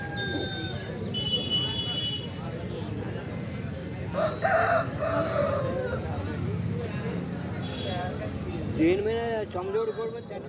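A rooster crows amid a busy country chicken market, its call rising over steady crowd chatter and bargaining voices, with other fowl clucking faintly around it.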